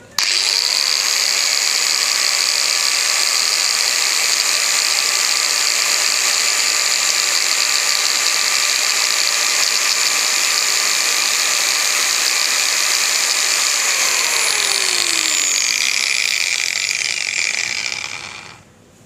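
A Ryobi HG650 angle grinder runs at no load with a steady, loud, high-pitched whine for about seventeen seconds, then spins down and fades out at the end.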